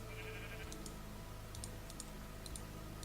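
A sheep in the video game Minecraft lets out one short, faint bleat, followed by scattered light keyboard and mouse clicks against a quiet background hum.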